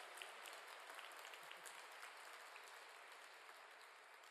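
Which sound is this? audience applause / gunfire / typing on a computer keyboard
audience applause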